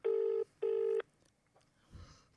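Telephone ring-back tone heard during an outgoing call, two loud, steady electronic rings with a short gap between them, followed by faint background noise.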